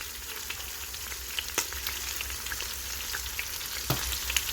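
Oxtails sear in a hot pan, giving a steady close crackling sizzle with scattered pops and a few soft clinks. There is no talk.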